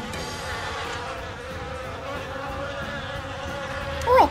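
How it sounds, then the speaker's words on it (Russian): A cartoon bee buzzes near a flower, a steady insect drone running throughout at moderate loudness, ending with a brief high squeak at the close. "У тебя на цветок села пчела."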